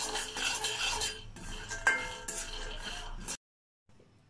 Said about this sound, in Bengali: আমি বাদামটাকে ভেজে নিব।